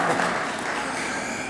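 A school signing-day audience for a varsity football player applauds steadily, a dense wash of clapping that holds at an even level for its short length, with no talk over it.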